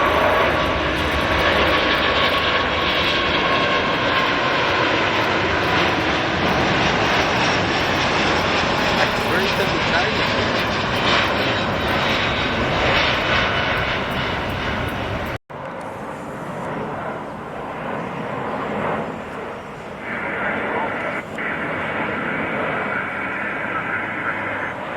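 Airbus A350 airliner taking off, a loud sustained broadband engine roar that fills the first fifteen seconds, then continues at a lower, more distant level after a brief cut, with faint voices underneath.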